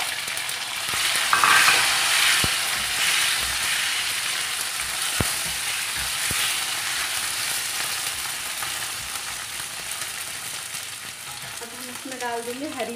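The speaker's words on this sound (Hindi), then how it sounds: "अब हम इसमें डाल देंगे हमारा जो कटा हुआ आलू" Chopped potatoes sizzling loudly in a hot pan for a tile-style spiced potato dish, a dense steady fry with a few sharp utensil clicks, close up, and a short voice near the end.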